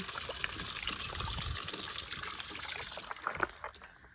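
Water runs steadily into a container, a close, continuous trickling and gushing that holds for a few seconds, then breaks into a few louder splashes before easing.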